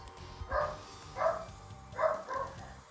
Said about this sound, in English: My dog's going crazy, as you can hear, maybe.